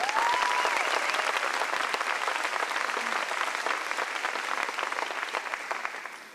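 Sustained audience applause fills a VIP ceremony at the 2010 Worlds cheerleading event, a dense steady roar of many hands at constant loudness that tapers slightly at the end, with no speech over it.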